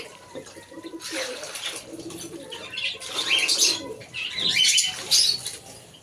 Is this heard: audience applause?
no